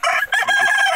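A Lohman Brown rooster crows loudly and close by, one sustained cock-a-doodle-doo filling the whole short moment with no other sound.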